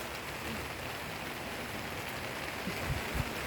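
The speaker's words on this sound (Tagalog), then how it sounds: "Palakas ang ulan." Heavy rain pours steadily onto surfaces outdoors beside potted bougainvilleas, a dense, loud hiss with a few heavier drips and thumps toward the end.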